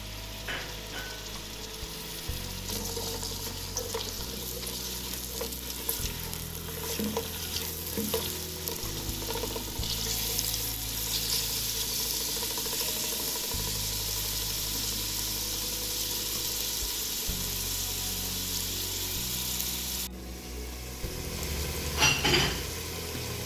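Onions frying with spices in a pan, a steady close sizzle with scraping stir strokes and light utensil clinks throughout, no talking.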